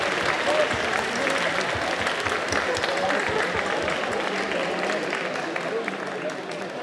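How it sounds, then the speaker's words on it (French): Audience at a cosplay contest prize-giving applauding a winner on stage, sustained close clapping from a crowd that fades slightly toward the end, with faint voices mixed in. "Belle de La Belle et la Bête, tu les applaudis sur scène."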